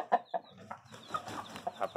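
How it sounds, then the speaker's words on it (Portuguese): Short bursts of clucking from a rooster, several quick calls close by with scratchy rustling in between, no talking. "O galo tá arrupiado aí, pessoal."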